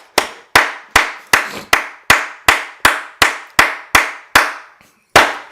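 A church congregation clapping in praise of the Lord: about a dozen loud, sharp, perfectly unison claps at a steady beat, each ringing out in a reverberant hall, with one brief pause before the last clap and no cheering voices audible.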